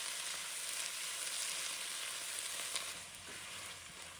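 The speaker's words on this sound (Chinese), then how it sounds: "将沥干水分的包菜放入锅中，大火快速煸炒，让每片叶子都均匀裹上油脂。" Drained cabbage stir-fries in lard over high heat, producing a dense, continuous sizzling hiss close by with faint stirring underneath and no talking.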